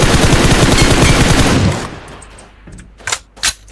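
Automatic gunfire in the PUBG battle royale game on the Miramar desert map: a loud, dense burst of rapid shots for nearly two seconds, then quieter scattered noise and two sharp single reports near the end.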